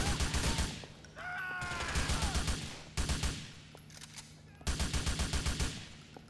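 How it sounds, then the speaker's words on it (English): Bursts of gunfire from a Grand Theft Auto IV shootout come in three loud clusters of rapid shots, with ringing game effects between them and no voice over the shots. "Now, who's shooting me?"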